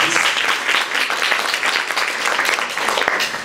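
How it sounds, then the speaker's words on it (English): Applause from an audience at the opening of an academic conference, a loud, continuous rattle of many hands clapping close by for over three seconds, with no talking over it. "Could you please give a applause?"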